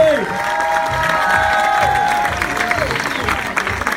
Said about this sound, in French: vous allez donc vous applaudir à mitrailleur. Les derniers applaudissements.